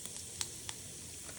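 Cumin seeds crackle and sizzle in hot oil in a pan while cooking karela (bitter gourd) sabji, a steady soft hiss broken by a few small sharp pops, with no talking.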